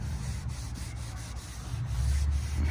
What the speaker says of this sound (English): just sand it in the direction of the grain, and then rub it this in the direction of the grain